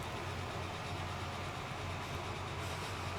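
A steam train runs in Transport Fever with a steady rumbling roll and a low engine tone, constant and even throughout.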